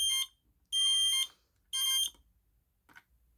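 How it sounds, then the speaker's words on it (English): A smoke detector on a fire alarm system sounds during a test, giving loud, shrill electronic blasts in a repeating on-off pattern with short gaps between them, followed by a faint brief chirp. "We're going to set off all the alarms here on the fire alarm system."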